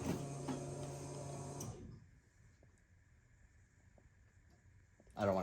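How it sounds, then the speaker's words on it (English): An ECU-controlled fuel pump in a turbo K20-swapped EG hatch whirs on with a steady electric hum, then stops abruptly, leaving a quiet garage with a faint tone and small clicks before a brief noise at the end. "That noise? That was the fuel pump."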